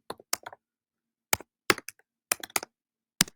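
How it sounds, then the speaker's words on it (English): Sparse keystrokes tapped on a computer keyboard, coming in quick little clusters of two to four clicks with long silent pauses between them, close and crisp with no voice. "Just type it in like this."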